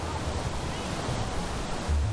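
Large ocean waves crashing on Rancabuaya beach in South Garut: a loud, continuous roar of surf with wind rumble, steady throughout, with no clear talking.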